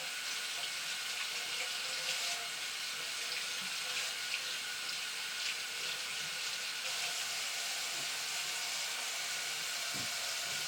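Vegetables rinsed under a running kitchen tap, with a constant steady hiss of flowing water and faint shifting splashes under it throughout.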